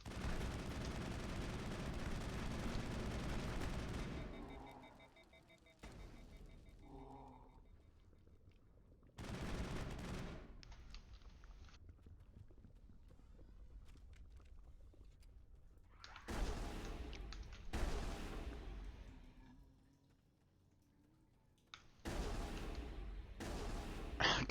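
Shotgun fire in the video game Mass Effect, heavy booming blasts spaced several seconds apart, each with a dense burst and short rumbling tail, loud and close amid quieter stretches.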